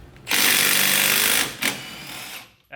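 An impact wrench hammers on a wheel's lug bolts on an LS-swapped Miata, loud and close in one long rattling burst, then a short second burst, with no talking.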